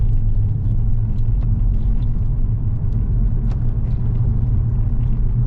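A Cadillac BLS 2.8 V6 turbo drives along winding roads, giving a steady low rumble of engine and road noise, continuous and fairly close, with no voices.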